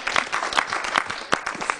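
A short burst of applause from a small group, quick scattered claps close by.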